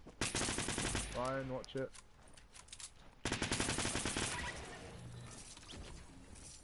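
Gunfire in Fortnite rings out in loud rapid bursts, one at the start and another midway, with a person talking over the first burst.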